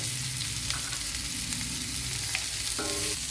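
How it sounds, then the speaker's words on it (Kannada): Chopped onions and green chillies with curry leaves fry in a tempering for vermicelli chitranna, giving a steady close sizzle with a few soft stirring scrapes and no talk. "ಈಗ ಈರುಳ್ಳಿ ಹಸಿಮೆಣಸೆಲ್ಲ ಒಗ್ಗರಣೆ ಎಲ್ಲ ಫ್ರೈ ಆಗಿದೆ."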